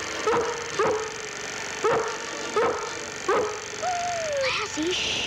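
A police German shepherd barks in a training session over hurdles, giving about five sharp, evenly spaced barks close by, followed by a rising whine over steady background noise.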